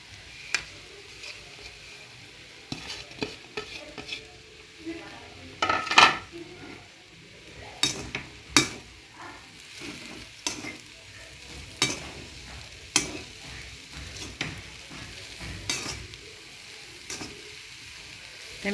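Leeks stir-fried in a pan while making Sri Lankan kottu, with a soft steady sizzle broken by frequent sharp scrapes and clinks of a utensil against the pan, no talking.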